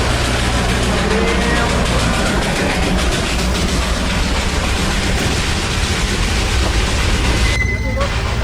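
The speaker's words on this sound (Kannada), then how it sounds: "ಟ್ರೈನ್ ಬಿಟ್ಟಿದೆ." A continuous loud rumble and rattle of a train pulling away near Mysore, recorded from on board, steady throughout and with faint voices mixed in.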